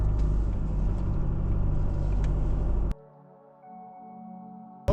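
A car reversing down a slope at a vineyard after unhooking a trailer, with a steady low engine rumble that cuts out abruptly midway, leaving a faint hum before a sharp noise at the end.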